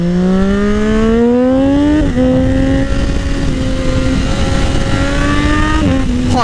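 Triumph Daytona 675R motorcycle engine revving hard and climbing in pitch through quick gear changes, a loud, close, continuous howl with no talk.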